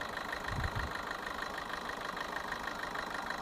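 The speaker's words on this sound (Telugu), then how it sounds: "ఇంజన్ బీటింగ్ చూడండి, చాలా బాగుంది." A Maruti S-Cross diesel engine idles steadily, a close, even, rhythmic clatter with a low throb that holds constant throughout, no voices present.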